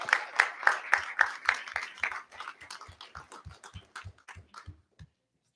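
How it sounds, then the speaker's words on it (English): Applause for a show choir at a school board meeting, a small group clapping in clear individual strikes that start fairly strong and grow sparser and fainter until they stop, with a low hum under each clap. "One more round of applause for Mrs. Pecor and the show choir."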